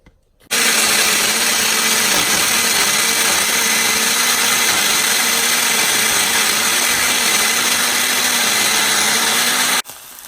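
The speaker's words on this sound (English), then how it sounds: "I'm adding some water to blend it" A kitchen blender grinds roasted almonds, coconut powder and sesame seeds with about half a cup of water into a paste for biryani gravy, a loud steady whir running unbroken for nearly ten seconds and then cutting off.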